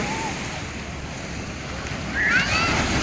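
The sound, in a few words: sea waves crashing on Tiwitiwi Beach, Legaspi, Albay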